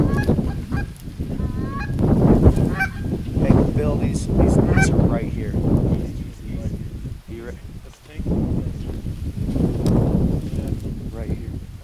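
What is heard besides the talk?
geese honking over water while duck hunting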